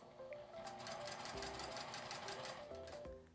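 A domestic sewing machine runs steadily, stitching fabric with a fine tweezer tool holding the seam allowance. The whirring is continuous and fairly loud, with the motor pitch shifting slightly a few times and no talk over it.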